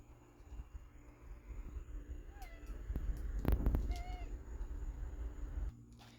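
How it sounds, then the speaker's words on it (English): A couple of faint, short meows sound over a low rumbling background hum beside a charcoal grill, not far away. "So kitty's here."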